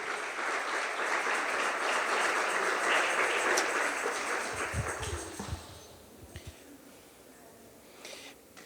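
A church congregation gives a full, loud round of applause that holds for several seconds, then fades away into a few scattered claps and quieter room noise.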